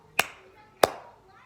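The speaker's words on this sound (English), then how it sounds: "That's how clapping sounds." Two sharp hand claps, close and distinct, spaced a little over half a second apart against a quiet background.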